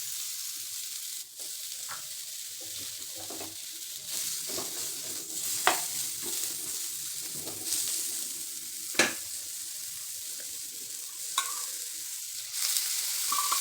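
Onion frying in plenty of oil in a pan, with a constant bright sizzle and bubbling, punctuated by several sharp spatula scrapes and stirs, close up and without speech.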